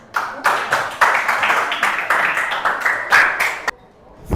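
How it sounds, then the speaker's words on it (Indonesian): A school class breaks into applause during a lesson, a dense burst of clapping that holds steady for several seconds, then cuts off abruptly near the end. "Ya, berikan tepuk tangan."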